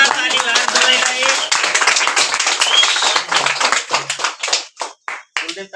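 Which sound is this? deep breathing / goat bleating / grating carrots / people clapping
people clapping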